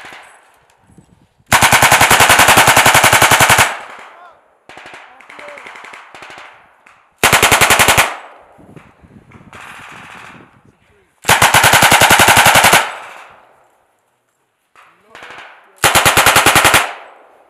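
Loud bursts of automatic machine-gun fire during a military training exercise in Alaska, four sustained volleys separated by pauses, with faint voices and movement between them.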